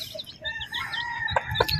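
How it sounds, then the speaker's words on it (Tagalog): Chickens cluck and chatter close by while a rooster's crow rises over them, with a few sharp calls near the end. "Malulusog ang aking mga manok."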